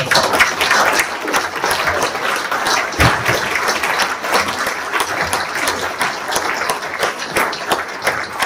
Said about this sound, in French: Je vous demande vraiment des applaudissements.